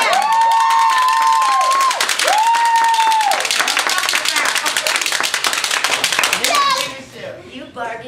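Audience clapping at a Toastmasters humorous speech contest, loud dense applause that builds and runs for several seconds before tailing off, with a voice and whistle-like tones heard over it.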